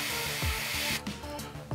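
An airbrush sprays paint in a steady hiss, with small mechanical clicks and shifts in the flow partway through, heard close up.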